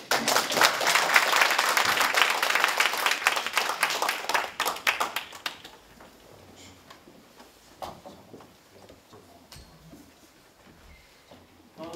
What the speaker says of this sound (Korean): 이쪽에서 박수 한번 드립니다.